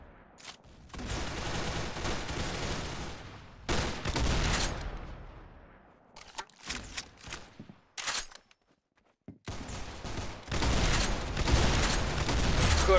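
Gunfire in the Roblox shooter Arsenal, loud bursts of rapid shots and volleys broken by short silences, close and dominant, with no speech.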